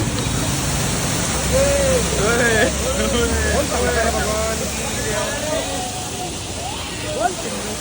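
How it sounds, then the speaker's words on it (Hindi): Waterfall on a pilgrimage route to Gangotri with people bathing beneath it, a loud steady rush of falling water with voices calling and chattering over it throughout. "झरना देखो भाई।"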